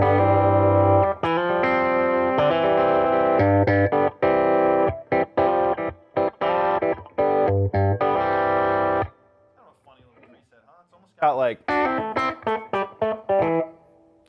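An electric guitar plays through a Fender Mustang GT 100 amplifier on its Country Deluxe preset, giving bright, slightly crunchy chords and riffs with subtle reverb, loud and close, broken by a short pause while someone speaks briefly.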